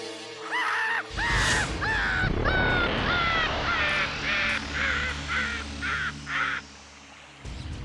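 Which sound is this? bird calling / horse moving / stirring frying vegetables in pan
bird calling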